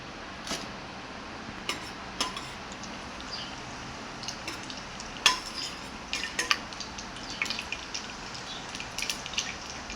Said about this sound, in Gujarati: હવે આપણે આ કાજુ બદામ શેકી લઈશું.